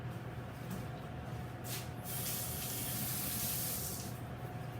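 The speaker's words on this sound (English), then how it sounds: "get our hands washed up" Tap water runs into a kitchen sink for hand washing, a steady splashing rush that grows brighter and heavier midway as hands move under the stream, with no talk.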